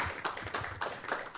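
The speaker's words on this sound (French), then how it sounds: "Écoutez, on vous applaudit" Audience at a talk clapping in a brief, fairly faint round of applause, individual claps spaced in a loose rhythm with no speech over them.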